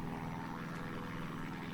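A Christen Eagle II aerobatic propeller plane in the DCS flight simulator drones steadily, a faint continuous engine and propeller hum with no breaks.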